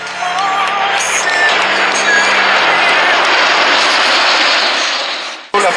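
Breitling Jet Team jets fly over the Air Expo airshow at Muret, a loud broad roaring wash of engine noise that sustains for several seconds before cutting off abruptly near the end, with a faint voice underneath.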